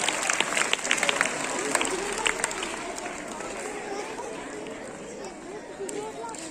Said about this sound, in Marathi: टाळ्या वाजवायच्या आहेत